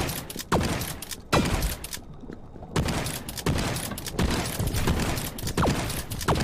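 Shotgun blasts break open crates in the action video game Armored Head. Several loud, sharp booms are spaced a second or so apart, each followed by clattering debris, with no talking.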